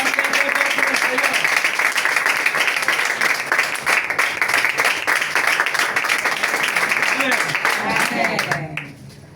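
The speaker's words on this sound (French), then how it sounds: "Acclame très fort pour le Seigneur." A church congregation at a women's conference in Burkina Faso applauds loudly and steadily for the Lord, dense clapping that carries through nearly the whole stretch before stopping abruptly, with voices calling out over it.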